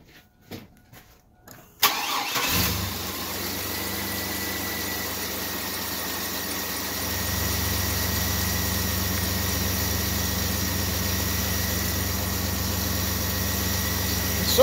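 A car engine cranks after a few knocks and clicks, then settles into a steady idle while the coolant system is purged, with a low hum deepening partway through and running continuously up close.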